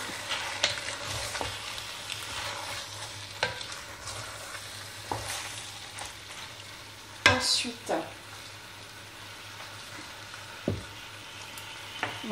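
A carbonade flamande mixture of meat and mustard gets stirred in a pot, with soft sizzling underneath and intermittent scraping, clacking utensil strokes at irregular intervals.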